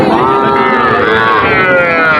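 Cattle low continuously at a busy Bangladeshi cattle market, several overlapping moos with long wavering tones filling the whole moment, loud and close.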